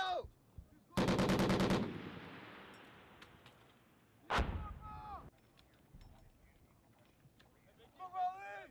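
A sharp burst of rapid machine gun fire during Marine training, followed by a long echoing decay, then another single heavy report fading out, with distant voices talking afterward.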